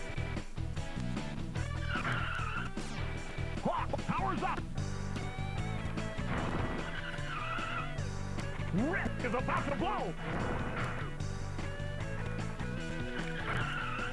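Rock n' Roll Racing on the SNES playing its soundtrack, a chiptune rock tune with wailing lead lines running steadily over continuous engine noise and game effects.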